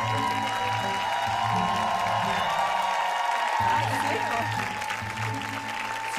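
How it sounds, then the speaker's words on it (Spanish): Applause and cheering from a talent show audience for a semifinal contestant on Got Talent Chile, a dense steady wash of clapping with crowd noise under a sustained musical tone throughout. "Fuerte el aplauso para Tomás."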